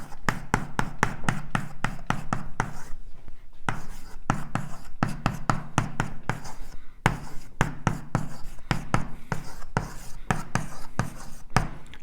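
Chalk writing a conservation law on a lecture board in a cosmology class, a rapid run of close, sharp taps and scratches in bursts with brief pauses, and no voice over the strokes.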